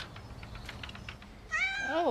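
A stray or abandoned cat meows at close range in a volunteer cat shelter in Bristol, England, a rising then falling cry arriving after a stretch of quieter murmuring and room noise.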